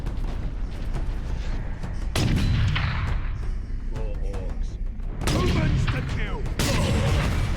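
Gunfire from a shooting video game played with a controller, heard as several loud bursts of shots over a steady rumbling battle background, with a voice talking briefly.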